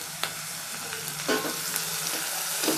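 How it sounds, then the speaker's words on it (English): Onions with salt sauté in a hot pan, giving a steady close sizzle with occasional scraping stirs. "And saute the onions till it gets translucent."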